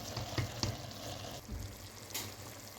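The filling for pan-fried Turkish pişi dough sizzles in a pan on the stove, with a quiet steady frying hiss and occasional stirring scrapes, no talk.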